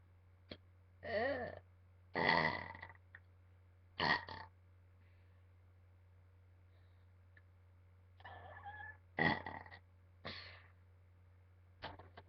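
A person lets out a series of loud, close burps in two clusters, some drawn out and croaking and others short, over a steady low hum with quiet gaps between.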